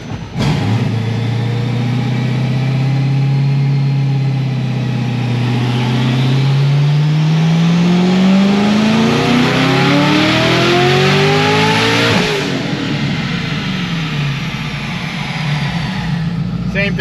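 A twin-turbo LSX-swapped Porsche makes a full pull on a dyno, its engine note climbing steadily and loudly for about twelve seconds before cutting off abruptly and winding down.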